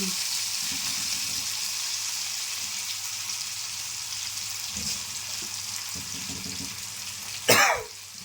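Fish pieces fry in hot oil for a fish fry, giving a steady, close sizzling hiss throughout, with a brief louder crackling burst near the end.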